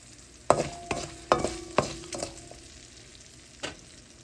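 A spoon stirs tempering spices in a pan, a handful of sharp clacking strikes against the metal over a low, faint sizzle, with quiet gaps between the knocks.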